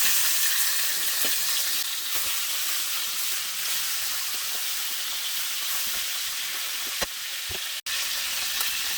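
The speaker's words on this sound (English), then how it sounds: "We will end up searing every side for 3 minutes." Beef short ribs sear in a hot pan with a continuous loud sizzle and spitting crackle, a couple of sharp pops breaking through near the end.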